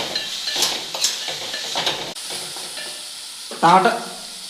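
Tomato pieces and green chillies fry in a pan for bread upma, sizzling under repeated close stirring scrapes and a louder clank of the spoon against the pan near the end.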